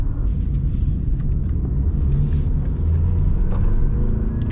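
2021 BMW 4 Series Coupe on twisty roads, heard as a steady low engine and road rumble from inside the car, with no talking.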